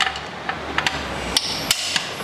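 An impact gun removes bolts from the CVT casing of a Yamaha Aerox scooter, giving sharp metallic clacks at irregular intervals over a steady workshop noise floor, close and fairly loud, with no speech.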